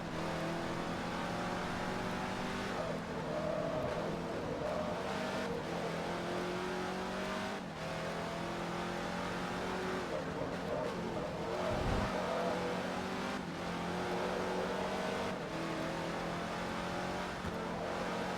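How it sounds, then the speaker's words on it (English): A Corvette in the Forza Motorsport 3 racing game revs hard and climbs through repeated gear changes, its engine note rising and dropping in a loud, continuous run with no talking. "Damn, this car is loud."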